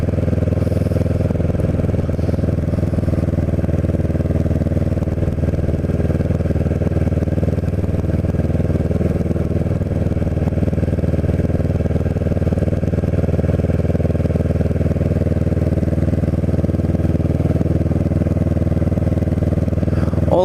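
A Kawasaki Ninja 650R motorcycle rides along a bayside shore road in The Villas, New Jersey, its engine droning steadily and loudly throughout with wind noise and no change in pace.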